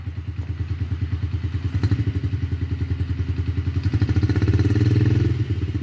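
Yamaha TTR-50 dirt bike with a rebuilt top end and a still-cold engine, idling with a rapid, loud thumping putter. It revs up gradually over several seconds, close by and with no talk.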